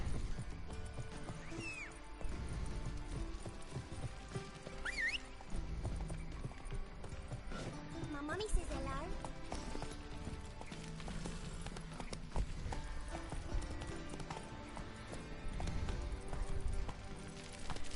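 Roach the horse gallops in The Witcher 3, a steady rapid clip-clop of hooves running continuously under game music and ambient sound, with a brief whinny-like accent partway through.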